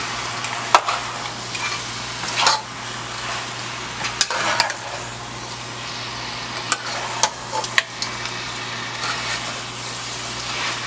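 Food being stirred in a cooking pot while it sizzles, a steady low frying hiss broken by repeated scraping strokes and sharp utensil knocks against the pot, no talking.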